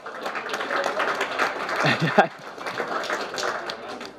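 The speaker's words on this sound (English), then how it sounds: "Round of applause for everybody." A group claps together after a physical exercise session, a busy patter of hands lasting a few seconds with voices talking and cheering over it and one sharp knock near the middle.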